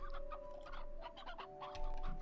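Red hens in the Slime Rancher video game cluck in short, soft bursts over a low steady hum, fairly quiet throughout.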